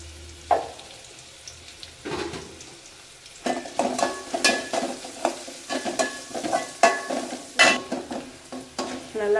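Onions sizzle in a hot pan while a utensil stirs and scrapes them in an irregular rhythm, close up and fairly loud, with no talking.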